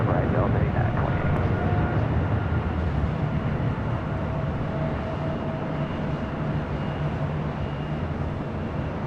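A jet taking off from LAX makes a steady, loud, broad roar that stays constant throughout, with an air traffic control radio voice talking over it.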